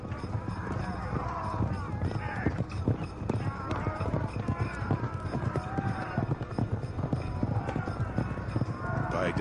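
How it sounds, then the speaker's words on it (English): Many horses galloping as ancient Assyrian chariots charge into battle, a dense, continuous rumble of hooves with an occasional whinny, loud and busy throughout. "and the chariots charge"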